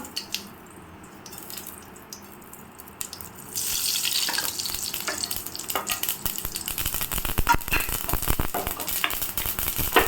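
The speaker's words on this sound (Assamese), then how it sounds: "তেলখিনি গৰম হৈ গ'লে প্ৰথমতে তাত দিব সৰিয়হ" Mustard seeds hitting hot mustard oil in a kadai, a dense crackling sizzle that starts suddenly partway through and keeps popping steadily up close, with no talk.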